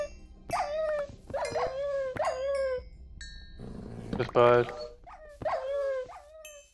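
Dogs in the Minecraft video game give a series of short, bright yips and whimpering barks, with a brief noisy burst midway, while a person speaks German in between.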